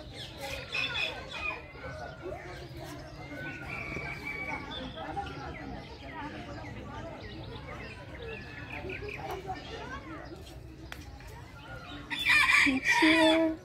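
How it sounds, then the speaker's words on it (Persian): Polish chickens and roosters cluck at a bird garden in Nazhvan, Isfahan. Scattered clucks and calls sound close by, a loud rooster crow bursts out near the end, and voices talk in the background. "مرغ و خروس"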